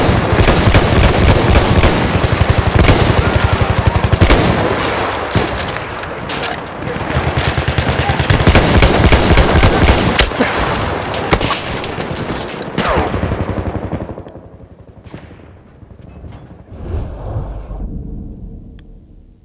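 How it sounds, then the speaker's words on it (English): Heavy machine gun and fusillade fire in the World War I shooter Battlefield 1, loud sustained bursts with booming blasts for most of the stretch, thinning into scattered distant shots near the end. "Spotted a machine gun!"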